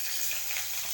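Sliced onions fry in hot oil with curry leaves, a steady, soft sizzling hiss close by and alone.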